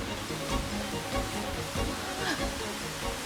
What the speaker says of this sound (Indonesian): ini akhirnya kita sampai juga di air terjun. Batang Bangkawe.